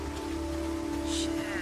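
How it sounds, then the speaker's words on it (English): Rain falls in Days Gone, a continuous broadband hiss beneath a steady low musical hum, moderately loud and unbroken throughout. "Starting to rain."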